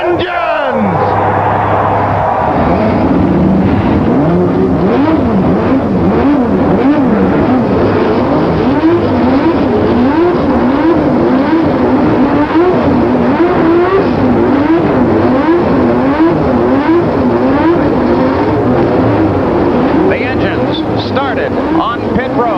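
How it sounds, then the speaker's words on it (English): Race car engines fire up and rev together on pit road at Michigan International Speedway, a loud, sustained roar with rising and falling revs throughout, crowd and PA noise blended in. "Gentlemen, start your engines!"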